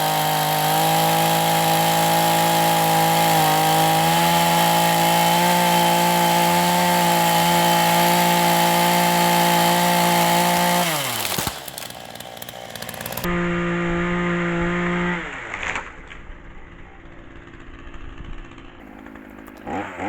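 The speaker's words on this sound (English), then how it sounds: "After I'd felled the tree, he said he would like to have a go with the chainsaw" A chainsaw cutting into a dead cherry tree, engine droning loud and steady at full throttle for several seconds, then sputtering through chopped bursts and falling to a lower idle.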